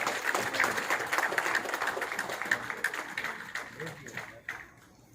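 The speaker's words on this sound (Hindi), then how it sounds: "तालियां बजती रहनी चाहिए" Steady applause fills an award ceremony as each recipient is called forward, continuous clapping with a voice announcing over it, the clapping thinning out toward the end.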